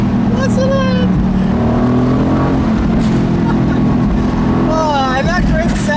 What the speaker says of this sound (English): And another low-speed rolling acceleration. I love it. I love it. Listen to it.